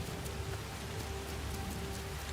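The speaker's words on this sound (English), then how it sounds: "Rain looks quite good." Steady rain pours in the video game Assassin's Creed Shadows, a dense continuous hiss of drops on surfaces, even and moderately loud with a faint low hum beneath and no voices.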